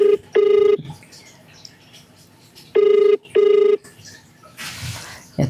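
An outgoing phone call rings on the line: two separate ringback tones, the second one a doubled burst, with quiet gaps between them and a short noisy rustle near the end.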